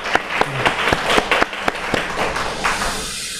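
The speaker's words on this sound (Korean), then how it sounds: "다시 박수하겠습니다" A church congregation bursts into applause during a third-anniversary service, a fairly loud run of claps with a few sharp individual hits standing out, fading toward the end.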